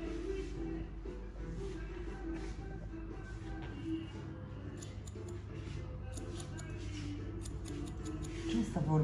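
Scissors snip hair during a haircut, with quick, light, repeated cuts close by over a low room hum and faint background voices.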